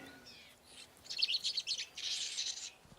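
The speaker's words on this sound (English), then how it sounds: "his collection of these undramatic little birds, the finches" Galápagos finches chirp in short bright bursts, a few quick tweets and trills over quiet outdoor ambience, fairly close and clear with no voices.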